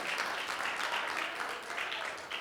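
A small room of people at a democracy-themed gathering clapping together in a brief, fairly quiet patter of applause with no talk over it.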